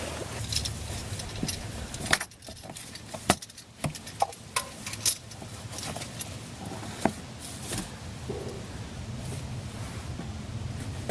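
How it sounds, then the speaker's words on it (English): Metal wrench clinks and ratchets against the oil drain plug beneath a Kia Forte, a series of sharp close taps and scrapes scattered over a low background rumble, with no talking. "So I'm just going to put that wrench on it and then bring it down"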